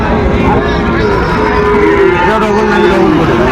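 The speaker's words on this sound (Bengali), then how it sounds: "বেশ সুন্দর গরু" A Sahiwal bull at a cattle market in Cumilla lows in long, loud moans that rise and fall over a steady crowd murmur, with other cattle sounds close by.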